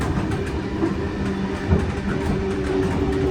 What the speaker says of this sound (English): I'll film this train leaving Strathfield